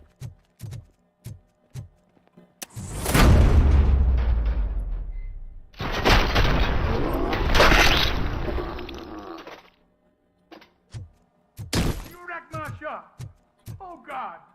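Gunfire in the video game Robocop Rogue City: sharp single shots, then two long roaring bursts of sustained fire, with scattered further shots and voices speaking at the end.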